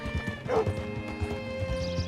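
Horse in the Red Dead Redemption 2 video game, with clip-clopping hooves and a short whinny early on over a faint steady background hum.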